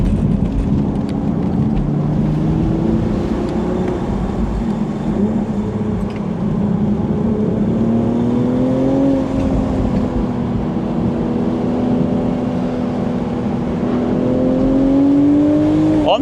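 A BMW Z4 M40i sports car with a manual gearbox accelerates under throttle, its engine note climbing and holding in a loud, close, continuous drone with no talk over it.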